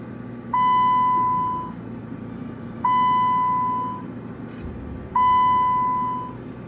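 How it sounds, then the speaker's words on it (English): Three evenly spaced electronic beeps from a car, each a steady tone held for about a second, sound over a quiet background hum. "My car just beeps for no reason."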